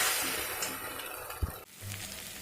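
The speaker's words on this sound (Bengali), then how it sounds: "দেখুন মশলাটা কষা হয়ে এসছে আর খুব সুন্দর একটা গন্ধ বেরিয়েছে, তেলও ছাড়ছে।" Masala paste frying in oil in a pan for a paneer curry, a steady close sizzle with a brief scrape near the middle and a short clatter before the frying settles back in.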